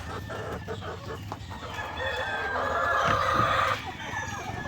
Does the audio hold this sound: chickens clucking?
yes